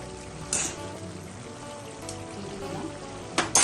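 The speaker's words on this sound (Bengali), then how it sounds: "ঘি দিচ্ছি" Ghee pours into a hot pan of paneer curry with jackfruit seeds and pumpkin, giving a soft trickle and faint sizzle with a few louder splashy bursts near the start and end.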